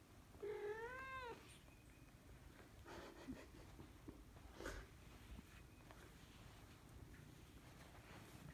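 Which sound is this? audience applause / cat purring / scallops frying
cat purring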